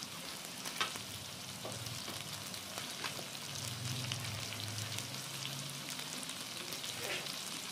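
Sliced shallots frying in hot oil while being stirred, a steady soft sizzle with scraping stir strokes, fairly quiet and close, with no voices.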